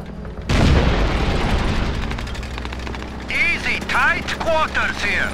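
A loud blast erupts in Call of Duty 3 on PS2, a Panzerschreck rocket firing and exploding amid a tank ambush, followed by a rumbling battlefield din with bursts of gunfire and shouted voices.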